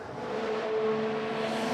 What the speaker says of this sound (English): As the cars come through Eau Rouge at lightning pace